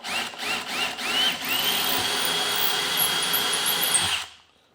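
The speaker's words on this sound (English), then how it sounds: "now it's just a matter of drilling our holes" A cordless power drill bores a couple of holes into a cabinet door or drawer front for knob installation, loud and close, with whining motor bursts giving way to a steady high-pitched run before cutting off.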